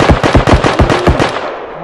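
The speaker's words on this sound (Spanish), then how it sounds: "Se están cagando tiros mal." Automatic gunfire in the multiplayer first-person shooter Bodycam: a loud, rapid burst of closely spaced shots hammering for over a second, then trailing off into a fading echo.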